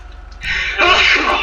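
A single person sneezes up close, a short inhaled build-up breaking into a loud, breathy burst that trails off quickly.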